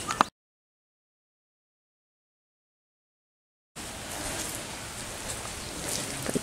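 Steady rain patters on a surface at a Sri Lankan temple after a long stretch of silence, a dense hiss of drops filling the last few seconds.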